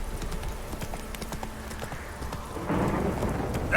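Hooves of the horse Roach clip-clop in a steady, fast gallop in The Witcher 3, with rain and rumbling weather behind them. The hoofbeats grow louder and fuller near the end.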